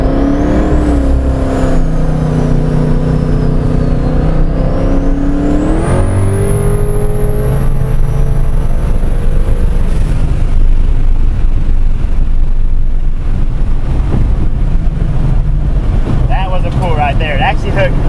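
A twin-turbo 2015 Mustang GT with weight in the trunk accelerates hard from a 60 mph roll, engine note climbing steadily then holding, loud and close under heavy wind roar inside the car.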